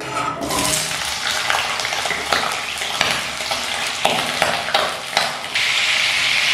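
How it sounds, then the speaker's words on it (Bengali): Twelve diced potato pieces fry in hot oil, a close, crackling sizzle with repeated stirring clatters and scrapes running throughout. "বারো টুকরো ডুমো করে কাটা আলু এবার ভেজে নেব"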